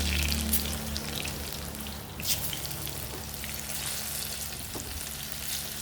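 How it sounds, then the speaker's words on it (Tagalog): Bananas sizzle and crackle steadily in hot oil, a continuous frying hiss with a low hum beneath and an occasional clink. "Magprito taog saging guys."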